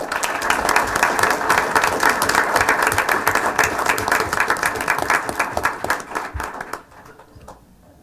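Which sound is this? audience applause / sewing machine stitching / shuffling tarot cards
audience applause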